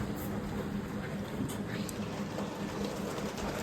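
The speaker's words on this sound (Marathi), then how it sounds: "पाऊस पडाक स्टार्ट झाला अचानक भयानक" Sudden rain falls steadily in a soft, even patter, heard from inside an auto-rickshaw with its doors shut, fairly faint and continuous, with no voices.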